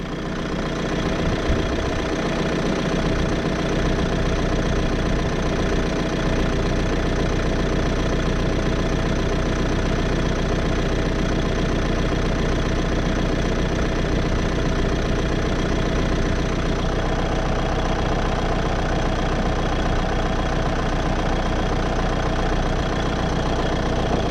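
A 2016 Nissan X-Trail's engine idles steadily for the whole stretch, a constant close drone with a faint knocking texture while its air conditioning system is refilled with gas.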